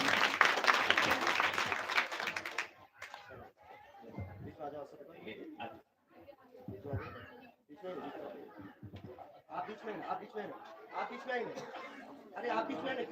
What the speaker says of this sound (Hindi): पूरे जोरदार ताली।